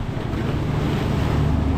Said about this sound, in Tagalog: Dito pala sumabog ang alon.